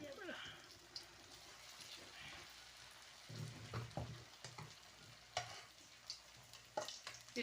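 Hot oil frying chicken-filled bread cones until golden, a steady crackling sizzle with occasional sharper pops and a brief louder burst, with soft voices faintly underneath.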